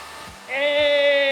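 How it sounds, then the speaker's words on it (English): A steady CNC machine whine jumps up in pitch and holds, a high motorized tone of a cutter spinning into wood, close and loud. "the CNC machine didn't get too confused when cutting or made a mistake"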